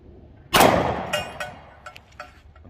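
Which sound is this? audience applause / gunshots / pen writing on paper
gunshots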